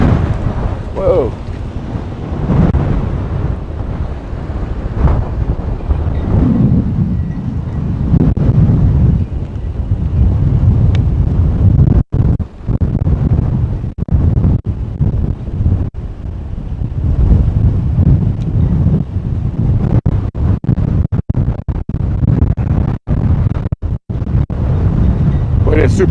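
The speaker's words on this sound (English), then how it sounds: "it's super windy out here" Strong outdoor wind roars and buffets the microphone continuously, loud and rumbling with sharp gusty dropouts, while someone speaks intermittently over it.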